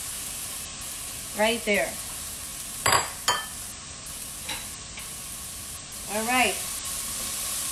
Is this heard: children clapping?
no